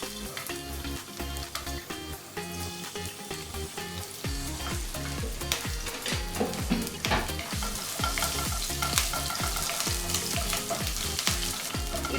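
Chopped ginger, garlic and green chili frying in hot oil for gobi manchurian, a steady close sizzle with stirring scrapes throughout, no talk.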